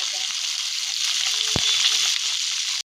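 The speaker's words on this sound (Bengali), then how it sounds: "তেলাপিয়া মাছগুলোকে কড়া করে ভাজতে হবে।" Tilapia fish fry in hot oil, a dense continuous sizzle with one sharp clack midway before the sound cuts off abruptly near the end.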